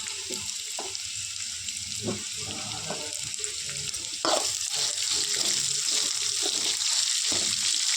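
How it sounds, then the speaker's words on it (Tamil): Pirandai (adamant creeper) sautéed in a pan with onion, salt and tamarind gives a steady close hiss with scattered stirring scrapes, the sizzle growing louder about halfway through. "கொஞ்சமாக உப்பு சேர்த்து நல்லா வதக்கிக்கலாம்."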